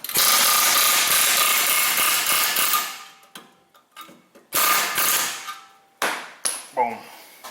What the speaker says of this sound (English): We can always hook a side hammer on it too, but I kind of like the air hammer.